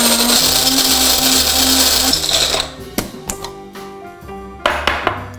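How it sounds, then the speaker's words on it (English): A coffee grinder whirs loudly as it grinds coffee beans for French press cold brew, then cuts off; a few sharp clacks and taps follow as the grinder is handled and knocked close by. "And into the grinder."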